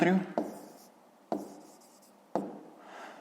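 Pen writing a number on paper during a fifth-grade geometry lesson on a triangle, with three separate scratchy strokes, each starting sharply and then fading.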